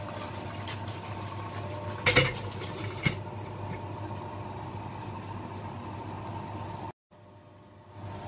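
Pots and dishes clatter while fish is set up to steam in a home kitchen, Hong Kong-style steamed fish; a couple of sharp clanks stand out over a steady low hum, then a brief drop to near silence near the end.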